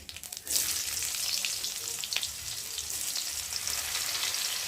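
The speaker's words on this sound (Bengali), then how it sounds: "দিয়ে পেঁয়াজটা একটু ভালো করে ভেজে নেব" Chopped onion and black cumin hit hot oil with a sudden burst of loud sizzling that then holds as a steady close fry, with a faint stir partway through and no talking.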